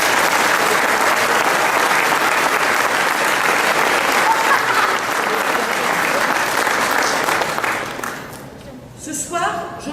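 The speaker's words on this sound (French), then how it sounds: "je pense également que l'on peut applaudir" An audience at a 2019 New Year's greetings ceremony in Lardy gives sustained, dense, loud applause for nearly ten seconds, then it fades quickly and a voice begins speaking.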